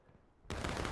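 Musket volley in the War of Rights Civil War game, a sudden loud blast of massed gunfire that erupts abruptly out of a quiet background and rolls on.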